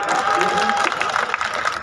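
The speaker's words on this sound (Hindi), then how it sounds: "मन हो तो ताली बजा सकते हैं आप" An audience at a Hindi political poetry recital claps in steady, dense applause throughout, with voices mixed into the crowd noise.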